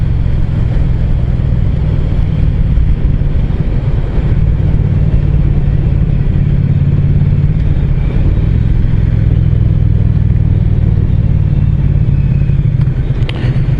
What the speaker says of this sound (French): on va faire une petite accélération pour voir ce que ça donne